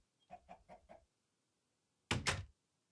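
Minecraft chicken clucking in a short run of four soft, evenly spaced clucks, then after a pause a louder double burst like a door thunk, with no talking.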